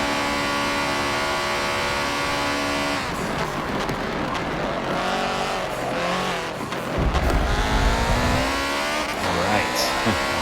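A loud Audi race car engine at Le Mans in Forza Motorsport 7, droning at high revs with gear shifts, tire squeal and nearby cars passing, running continuously.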